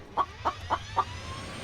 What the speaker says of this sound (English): Get away, chicken.